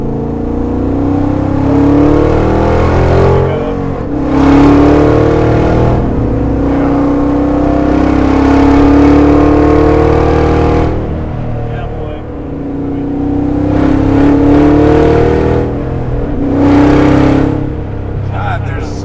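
A 1963 Corvette Grand Sport with a 750 HP Lingenfelter LT4 V8 pulls hard in fifth gear, its loud engine roar swelling and easing in long waves as it accelerates on a roll-on, with someone talking over it.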